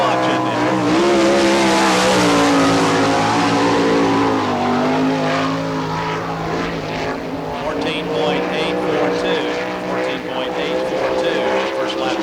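Sprint cars, including the number 77 sprinter, roar around a dirt speedway at the All Star Circuit of Champions in Barberville, Florida, a loud, sustained wall of racing engines with shifting pitch, and an announcer talks over it.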